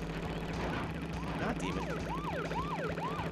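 Police car siren in Crash Bandicoot 3, with a rapid, repeating rising-and-falling wail over busy game music and engine noise. A voice speaks briefly over it.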